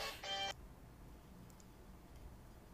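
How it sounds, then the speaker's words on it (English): A mobile phone gives a brief, faint electronic notification chime lasting about half a second, then the room falls nearly silent. "And that's my phone."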